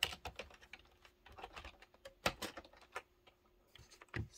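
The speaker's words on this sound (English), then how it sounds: "Then type for Shona to make bending templates." Fingers type on a computer keyboard up close, quiet irregular bursts of clicky keystrokes with brief pauses and a couple of sharper key taps, no speech.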